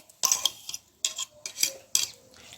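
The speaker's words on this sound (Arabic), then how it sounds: "وابتدي ان انا اقلب فيه" A spoon stirs mashed lentils in a pot, giving three bursts of scraping and clinking against the pot with short pauses between them, close and fairly loud.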